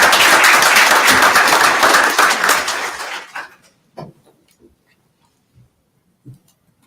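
Applause at a township committee meeting: a room full of clapping that fades out over about three seconds, followed by a few scattered claps and small knocks in an otherwise quiet hall.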